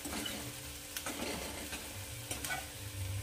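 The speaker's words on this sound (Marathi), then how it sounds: "छान याला गोल्डन कलर येईपर्यंत मिक्स करत राहायचं आहे, असं हलवत राहायचं आहे" Onions and masala for rajma fry in a pan over medium heat, a low continuous sizzle with intermittent scraping and clinks of a stirring spoon close by.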